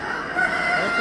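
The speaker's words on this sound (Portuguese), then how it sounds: "olha só o tamanho desse galo" A large caged rooster at a regional fair or event, one loud sustained crow heard up close, filling the short moment with little else around it.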